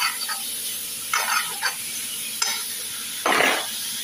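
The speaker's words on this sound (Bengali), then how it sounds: "একটু শাক ভাজি করি" Leafy greens frying in a pan in a home kitchen, a steady close sizzle with bursts of louder crackling and stirring scrapes, no talk.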